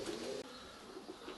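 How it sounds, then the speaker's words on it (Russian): Nikolaev breed pigeons arriving at a loft give soft, close cooing calls in a short burst, with faint outdoor ambience and no talking. "Прилетели еще 2 голубя и вот голубка желтокрымская."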